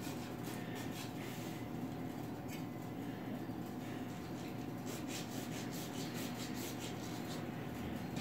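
A hand saw cuts PVC pipe with a steady rapid back-and-forth rasping, continuous and close, with no pauses through the stretch.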